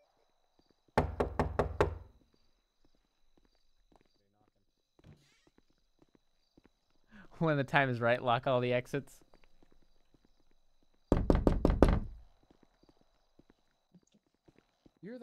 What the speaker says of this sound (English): Somebody knocking in one of these rooms, hello?